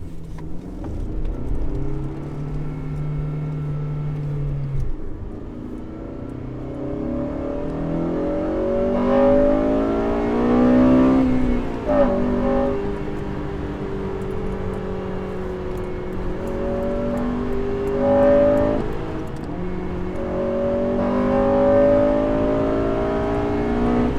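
An 8th-generation Honda Civic Si FA5 engine pulls hard under acceleration, revs climbing in several rising sweeps broken by brief gear-change dips, loud and close with no talking.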